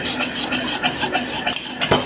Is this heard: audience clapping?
no